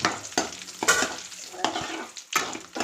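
Dry red chillies, cumin and curry leaves crackle and sizzle in hot oil while a spoon stirs the tempering, short bursts of spitting recurring over a few seconds with no talk.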